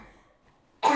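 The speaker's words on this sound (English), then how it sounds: "It's just my director coughing." A person coughs in a short, loud burst right at the end, after near silence, close to the microphone during a hot dog tasting.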